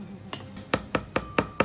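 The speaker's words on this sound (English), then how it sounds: "Good job chopping." A knife chops lemongrass, onion and garlic on a cutting board at a cooking class in Bali, with six sharp, evenly spaced close strikes in steady rhythm.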